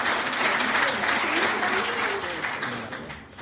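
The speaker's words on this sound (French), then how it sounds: "Venez, sur vos applaudissements" Sustained crowd applause fills a hall at a human resources awards ceremony in Tunisia, broad and fairly loud, easing slightly toward the end while voices murmur underneath.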